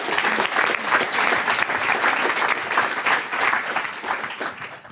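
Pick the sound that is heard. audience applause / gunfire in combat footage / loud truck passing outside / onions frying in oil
audience applause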